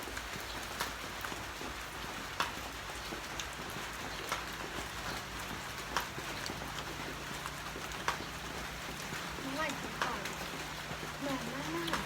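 Light rain patters steadily on a roof during an outdoor meatball grilling session, a soft continuous hiss with scattered drip ticks, while people talk quietly over it.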